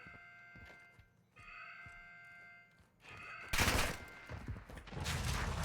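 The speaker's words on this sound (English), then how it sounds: "I just got shot at, and something explosive shot at me." Gunfire and an explosive blast aimed at the player in the video game DMZ, with short bursts of shots and then a loud, sustained roar of fire and explosion close by.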